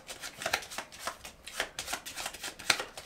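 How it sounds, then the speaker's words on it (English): A deck of playing cards is shuffled in a series of quick riffles and soft flutters. The sound is close and fairly quiet, with no voices. "Go through it, shuffle it."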